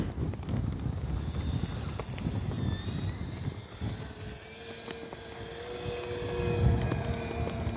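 Steady wind buffets the microphone, with the droning engine of a Hangar 9 10cc J-3 radio-controlled model plane whining in the distance and rising slightly near the end.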